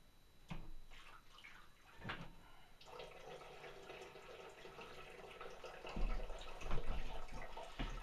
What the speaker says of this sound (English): I'm just going to empty some of my water out here.